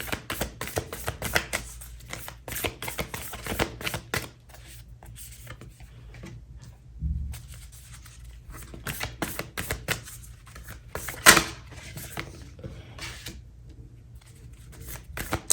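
A Moonology oracle card deck being shuffled by hand, repeated rapid riffling bursts close up with short pauses between them.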